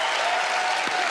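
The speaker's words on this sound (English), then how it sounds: "Give her a round of applause." A loud, dense round of applause from a studio audience at the Fool Us magic show, close and continuous for about a second with no talking.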